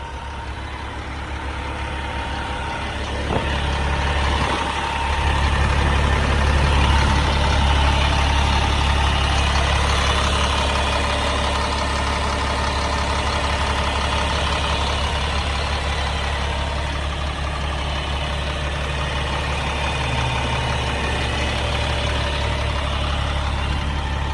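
A Caterpillar 950-series wheel loader's diesel engine idles steadily and loudly with a deep, even rumble. The revs rise slightly after a few seconds, then hold smooth throughout.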